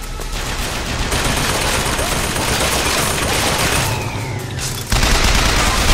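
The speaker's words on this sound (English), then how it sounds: "Oh, they have a turret." A turret rattles out sustained automatic gunfire in the video game BioShock Infinite, a dense, continuous, loud barrage that dips briefly near the end before surging back at full strength.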